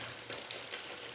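Kangkong (water spinach) fries in a pan with a steady, dense sizzle and faint crackles, close and continuous, with no voices over it.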